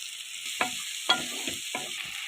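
Green chili, tomato, grated ginger and cumin frying in a pan for spinach coconut rice, with a steady hiss broken by four sharp stirring scrapes, no talking.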